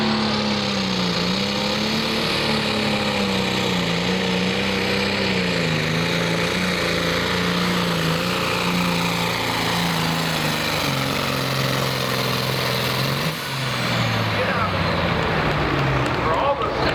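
A loud, roaring super stock pulling tractor engine runs continuously at a tractor pull with a wavering, fluttering pitch, a harsh mechanical drone with no pauses.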